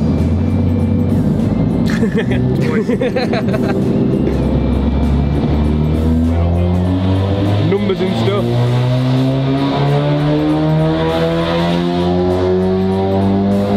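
A loud engine of a VW Mk8 Golf R with a stage 2 tune revs hard on a dyno and climbs steadily in pitch under constant roar, with a voice speaking briefly early on.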